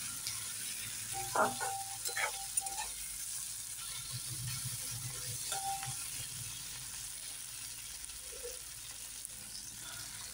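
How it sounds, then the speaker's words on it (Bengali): Garlic paste and green chillies sizzling in a frying pan as a fish curry is prepared, a steady low frying hiss with a few brief utensil scrapes and clicks of stirring, no talk. "এবার এটাকেও আমি কিছুক্ষণ একটুখানি নাড়িয়ে নেব, যাতে রসুনের কাঁচা গন্ধটা না থাকে মশলায়।"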